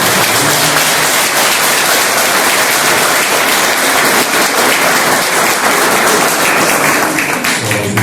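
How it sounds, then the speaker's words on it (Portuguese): Loud, dense applause from a crowd at a formal municipal council session in Brazil, sustained and even throughout, with scattered sharper claps standing out. "Nossos aplausos"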